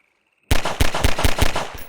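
Rapid pistol fire from the VR pistol in Half-Life 2 VR: after a brief silence, about eight loud, close shots crack out in quick succession, one almost on top of the next.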